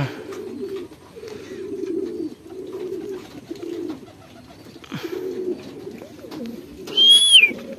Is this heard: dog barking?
no